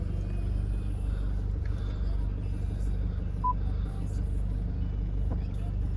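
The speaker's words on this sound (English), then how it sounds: "Start the car up." A Jaguar XF 2.0d R-Sport automatic diesel saloon idles with a steady low rumbling engine drone, close and constant, with faint clicks over the top.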